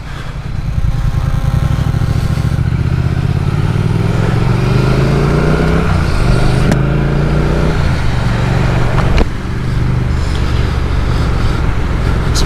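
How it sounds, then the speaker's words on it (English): Triumph T100 and Speed Twin motorcycles pull away from a test centre, a continuous loud engine drone rising in pitch as they accelerate, with a sharp click partway through and steady engine noise throughout. "Let's ride these bikes."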